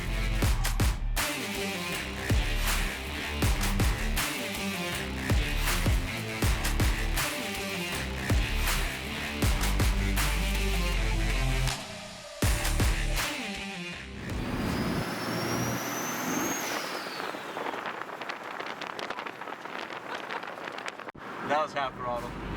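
A high-horsepower car, prepared for a dyno event, accelerates loudly at half throttle with a rough, pulsing engine note. Wind noise rushes over the microphone, and the engine note fades near the end.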